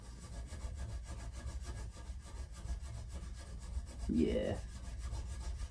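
Wire wool scrubs surface rust off a Honda CM motorcycle exhaust in a steady, rhythmic back-and-forth rasping, close up. A voice speaks briefly near the end.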